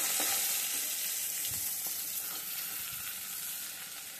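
Whole hilsa fish frying in oil in a pan, a steady close sizzle with faint scraping and stirring touches and no talk.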